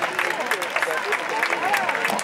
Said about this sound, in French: Et elle en termine sous vos applaudissements